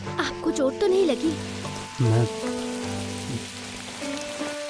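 Steady rain falling on a wet day, a continuous wash of drops on surfaces running throughout, with voices and tonal music layered over it.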